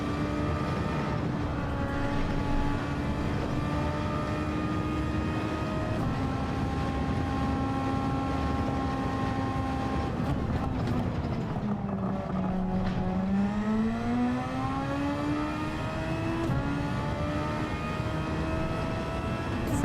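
Race car engine in Gran Turismo 7 running at high revs, a steady harmonic drone that holds, drops and climbs again through gear changes over about twenty seconds, loud and continuous with no talk.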